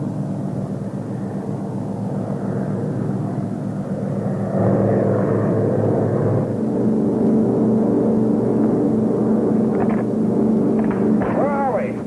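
A propeller airplane engine from a radio drama drones steadily under dramatic dialogue, swelling slightly louder partway through while voices keep talking over it.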